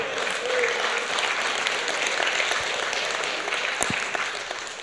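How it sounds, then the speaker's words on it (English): Applause from the audience at a banquet, a broad wash of many hands clapping that holds fairly steady and then slowly thins and softens toward the end, heard at a moderate distance. "Y'all see how the claps are getting lower and lower and lower?"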